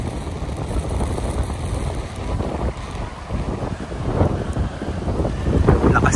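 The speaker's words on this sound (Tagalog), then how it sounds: "lakas ng hangin" Strong typhoon wind roars continuously beside the sea in Aklan, buffeting the microphone with heavy, steady gusts that swell toward the end, with waves and surf churning underneath.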